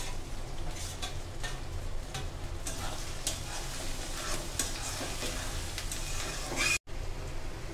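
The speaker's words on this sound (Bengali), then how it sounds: "পেঁয়াজ রসুন ভাজা হয়ে গেছে।" Onion and garlic fry in a pan with a continuous close sizzle, broken by repeated stirring scrapes and clicks and one brief cut near the end, with no voices.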